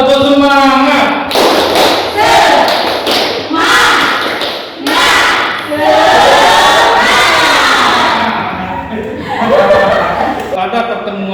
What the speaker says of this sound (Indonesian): sekarang kita akan mempraktekkan tepuk semangat ya